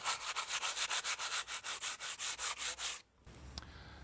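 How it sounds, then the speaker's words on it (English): Dried wall filler being rubbed down by hand before painting, a steady run of about twenty quick rhythmic sanding strokes that stops abruptly, followed by quieter handling noise. "the filler's dry now, ready to rub down so as we can then paint it"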